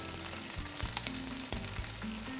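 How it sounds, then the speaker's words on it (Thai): Whole rosemary sprigs sizzle and crackle in hot olive oil while a pumpkin pasta is being cooked, a steady close frying hiss with small pops and no talking. "เเขาบอกว่าน้ำมันมะกอกนะครับ ใส่โรสแมรี่ทั้งต้นลงไปเลยครับ"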